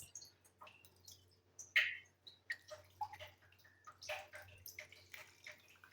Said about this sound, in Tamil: இப்போ நான் அந்த தண்ணி ஊற்றி கழுவுறேன்